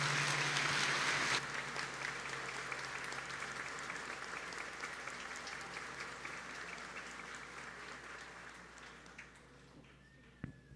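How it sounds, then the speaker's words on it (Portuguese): A church congregation in Itororó, Bahia, applauds a new parish priest at his installation, dense sustained clapping from many hands that starts loud and gradually fades over several seconds. "Vamos acolhê-lo com a forte salva de palmas."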